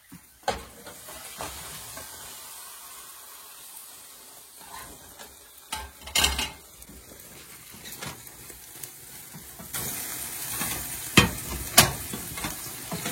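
A Spanish tortilla fries in a large, heavy pan with a soft, continuous sizzle. Sharper scrapes and clatters of stirring or handling break in now and then, growing louder toward the end.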